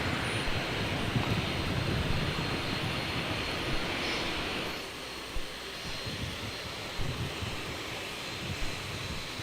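A jet airliner at Brisbane Airport rumbles as a steady, moderately distant roar, easing slightly midway and holding on as a broad continuous engine wash with no talk.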